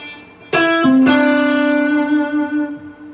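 Two strummed electric guitar chords through a plate reverb ring out into a long, smooth, shimmering reverb tail that slowly fades.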